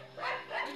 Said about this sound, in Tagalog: Ang ingay ng mga aso dito